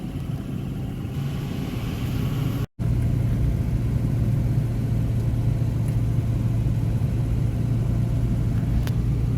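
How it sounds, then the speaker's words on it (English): A car driving on beach sand at Assateague gives off a steady, loud engine rumble with constant road and wind noise, broken only by one brief dropout near the three-second mark. "I've now been driving on the beach for about 30 minutes."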